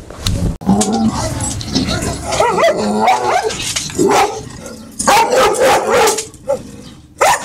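Dogs bark and yip repeatedly in loud bursts close by, tangled with shouting voices and commotion throughout.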